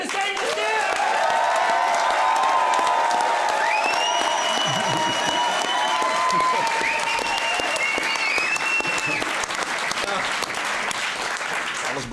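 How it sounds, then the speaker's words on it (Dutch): Applause from a studio audience fills the room steadily for about twelve seconds, dense and continuous, while a voice calls out over it. "Ik wil even een applaus voor deze twee heren"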